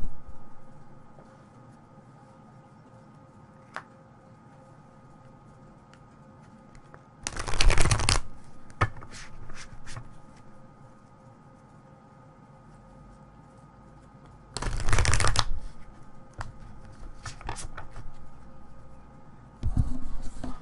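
Tarot cards being shuffled by hand in a quiet room, heard as two loud bursts of riffling and shuffling with softer card handling and taps between them, close by.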